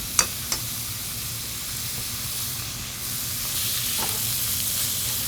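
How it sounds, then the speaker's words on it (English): Ground beef sizzles steadily in a pot while cooking for chili, a continuous broadband hiss with a couple of sharp pops near the start and another crackle partway through, loud and close with no talking. "You can hear that sizzle, everything's working nicely."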